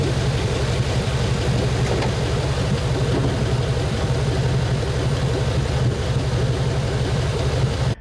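A V8-swapped Toyota Celica GT runs steadily at a low, even rumble, close and continuous for the whole stretch with no clear revs, ending abruptly.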